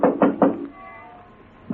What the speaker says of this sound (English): rapped on the door.